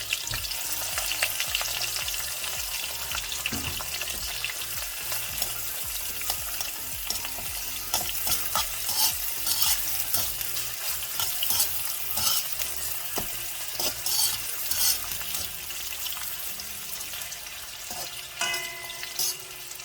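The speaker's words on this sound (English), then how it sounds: "next I'm going to saute some natural seasoning" Scallion, bell pepper, thyme, onion, tomato and garlic sauté in a pan, giving a steady, close sizzle with scraping stirs throughout, no voices.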